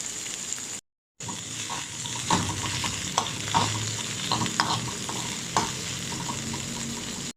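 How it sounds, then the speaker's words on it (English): Onions sautéing in a pan for shakshuka, a steady close sizzle and frying hiss with scraping stirs and light clinks over it after a brief silent gap near the start. "Now saute the onions,"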